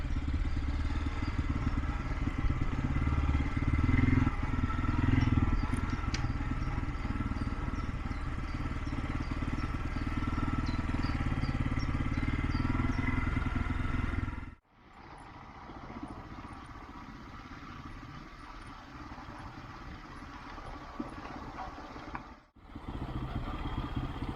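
A motorcycle riding in second gear on a mountain road in the Carpathians, a loud, steady engine drone with wind noise that drops out briefly twice and comes back a little thinner.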